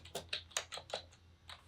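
Quick bursts of keystrokes on a computer keyboard come through close and crisp, about six taps in a fast irregular run, then a short pause and one more tap.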